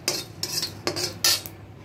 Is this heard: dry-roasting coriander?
yes